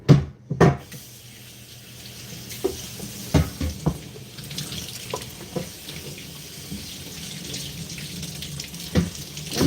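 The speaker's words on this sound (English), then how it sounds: "So I'm going to move this board out of the way and I'll rinse it off." Kitchen tap water runs into a sink while a cutting board is rinsed, a steady close splashing stream broken by knocks and clatters of the board against the basin, with no talking.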